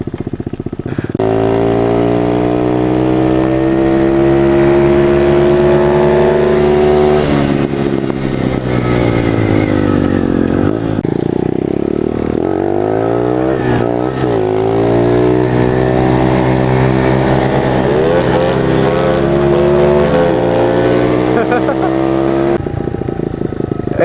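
Pit bike engines rev hard and loud through a street drag race, their pitch climbing and falling in repeated sweeping rises as the small bikes accelerate, with voices audible over the engine noise.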